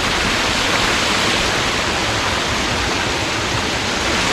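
A swollen mountain stream in Darjeeling roars loudly and continuously after rain, a dense, unbroken rush of water close by with nothing else audible.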